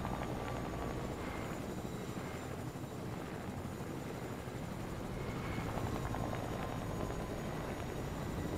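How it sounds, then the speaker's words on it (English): An airplane drones overhead in the video game Fortnite, a steady broadband engine roar with a propeller-like flutter, moderately loud and unbroken, with no talking. "I hear another plane right over there."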